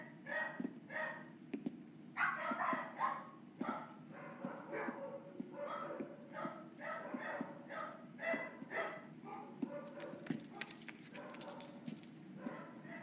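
Dogs barking at an animal shelter, a steady run of overlapping barks and yips from several dogs at moderate distance, with a burst of jingling metallic clatter near the end.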